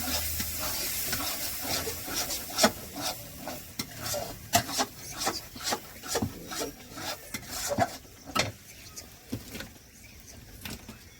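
Masala for a fish curry fries in a pan while a spoon stirs and scrapes it, making repeated rasping strokes over a soft sizzle, close and fairly quiet, with no one talking.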